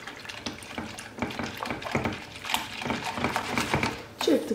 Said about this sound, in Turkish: Bunları öncelikle bir çırpayım.